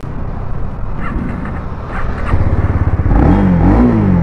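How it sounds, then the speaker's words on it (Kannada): A 2024 Honda CB300R motorcycle runs close by, its engine idling with a rough throbbing note before the exhaust rises in brief revs toward the end, loud and alone with no talking. "ಇಂಜಿನ್ ಸೌಂಡ್ ಈ ತರ ಇದೆ,"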